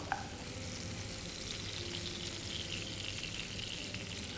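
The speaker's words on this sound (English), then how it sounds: "The prawns are sizzling on one range." Steady, gentle sizzling of prawns frying in hot oil, a continuous crackling hiss with no voices.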